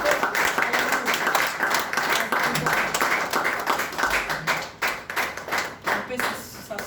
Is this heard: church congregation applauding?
yes